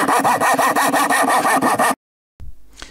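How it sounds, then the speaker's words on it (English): Quick, rhythmic scraping strokes of a knife trimming an elm wood base, close and loud for about two seconds, then a pause and a brief soft rustle. "I used some elm for the base and just trimming it here."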